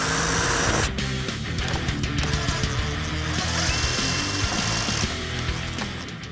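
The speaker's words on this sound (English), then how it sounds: "remove the 10mm bolt here and here" A power tool whirs steadily while a 10mm bolt is backed out on a 2007-2018 four-door Jeep Wrangler, a continuous mechanical drone with a couple of shifts in pitch and intensity.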